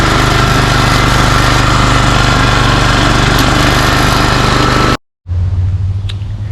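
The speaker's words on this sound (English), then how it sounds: "I can hold it back if I really try, but the mower will still drive itself" An Exmark commercial mower runs under its own self-propelled drive after a drive cable repair. Its engine drones loud and close without a break, then cuts out for a split second and picks back up.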